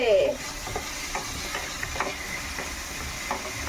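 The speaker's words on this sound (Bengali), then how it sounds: "মশলা ভাজা হয়ে গেছে" Spices fry in a pan with a continuous close sizzle and occasional stirring clinks, after a brief voice at the very start.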